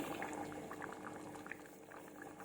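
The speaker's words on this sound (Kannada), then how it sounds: "ಪಳ ಪಳ ಅಂತ ಕುದೀತಾ ಐತಿ" Dhaba-style curry simmers in a pot at a steady rolling boil, with continuous close bubbling and small irregular pops throughout.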